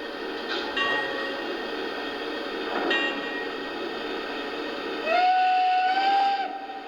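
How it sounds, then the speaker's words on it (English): A model train hums along with clicking noise, then a steady hooter whistle sounds for about two seconds near the end, fairly loud. "Got that hooter whistle in it."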